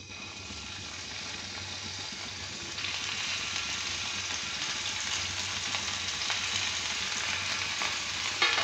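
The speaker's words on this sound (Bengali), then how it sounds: "মিডিয়াম রেখে এটা ভেজে নিতে হবে" Seekh kebabs fry in hot oil over medium heat, giving a steady, dense sizzle and crackle that runs the whole time, growing slightly louder partway through.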